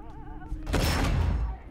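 Gunfire erupts in the Mafia III video game. A voice comes first, then a sudden loud volley of shots cracks and rattles for about a second before fading.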